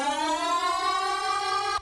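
Bass synth run through the Cloud comb filter table in the Phase Plant synthesizer, a steady buzzing tone with dense ringing harmonics that glide slowly downward, sustained for nearly two seconds before cutting off abruptly.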